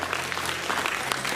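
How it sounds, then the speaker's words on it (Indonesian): Steady applause from an audience at an Indonesian leadership seminar, many hands clapping in a continuous dense patter with no pauses, moderately loud and filling the room. "Tepuk tangan buat teman-teman sekalian"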